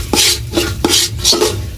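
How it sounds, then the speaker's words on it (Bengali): Dry lentils being fried and stirred in a pan for khichri, four close rhythmic scraping strokes of a spoon against the pan with a gritty rasp and no talk. "ডালটা যেন না লাগে যায় তার জন্য আমি এখানে ডালটাকে ভালো করে ভাজতে থাকবো"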